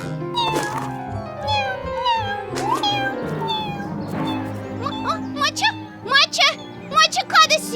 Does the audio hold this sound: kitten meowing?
yes